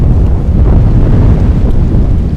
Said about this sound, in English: The wind is a little bit iffy right now